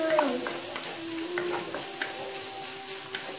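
Smoked, precooked ingredients for feijão tropeiro frying in a pan, a steady broadband sizzle with occasional light clicks of a utensil and no talking.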